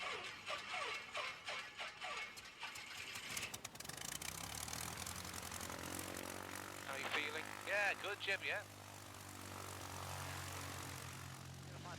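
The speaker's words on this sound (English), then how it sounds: "You're back to steering the aeroplane with your feet there." A light propeller training aeroplane taxis at an airport with a steady low engine drone and hum, while people talk over it in the cabin.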